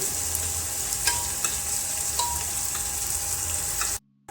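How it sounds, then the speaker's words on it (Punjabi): Onions fry in a pan for a chana dal and pumpkin curry, giving a steady close sizzle with occasional stirring scrapes, no voices, before the sound cuts out briefly at the end. "ਤਿੰਨ 4 ਮਿੰਟ ਵਾਸਤੇ ਆਪਾਂ ਪਿਆਜ਼ ਭੁੰਨ ਕੇ ਤਿਆਰ ਕਰਾਂਗੇ"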